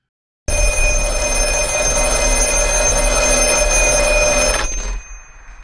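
A telephone from the horror film The Black Phone rings loudly and steadily for about four seconds, a continuous bright bell tone with no voices, then cuts off abruptly into quiet.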